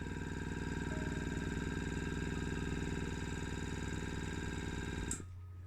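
A small airbrush air pump runs close by with a steady buzzing motor hum and rapid rhythmic pulsing, humming continuously for about five seconds before it suddenly cuts off, leaving quiet room tone; no one speaks.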